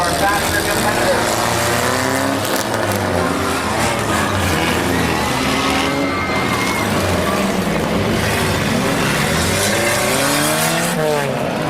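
Race cars at Midvale Speedway in June 2005 roar past with rising and falling engine pitch and squealing tires, loud and continuous, while an announcer talks over the action.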